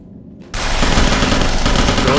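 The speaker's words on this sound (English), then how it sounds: "Goes for the hip fire, manages to control the spray and get the kill." Sustained automatic weapon fire in the video game Interstellar Marines, a loud continuous burst of rapid shots erupting after a brief quiet moment and running to the end.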